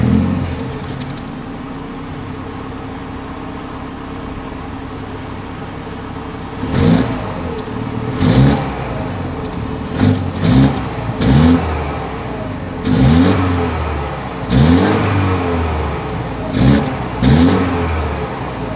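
A BMW 228i M Sport exhaust revs repeatedly, with about eight sharp blips rising over a steady idle rumble, loud and close, with no talk.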